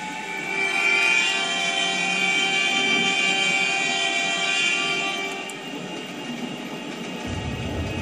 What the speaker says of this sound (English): Yep, they muted the bullet train horn